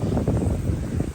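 Wind blowing outdoors at a farmhouse garden, a rough, gusty rumble buffeting the microphone for a second, close and steady, with no voices.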